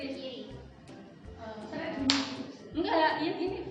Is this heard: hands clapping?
yes